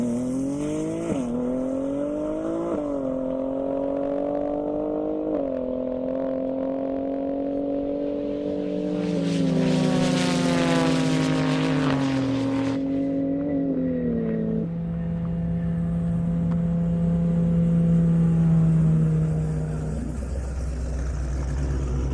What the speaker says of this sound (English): Now I got Kristen Doka in that beautiful Porsche Turbo S